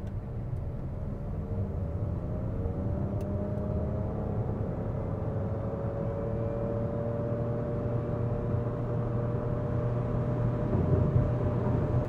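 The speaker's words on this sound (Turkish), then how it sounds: "Spor moddayım. 0-100 yapacağım." A Nissan Qashqai e-Power in sport mode accelerates from standstill to 100 km/h, a low hum rising steadily in pitch inside the cabin, moderately quiet and continuous.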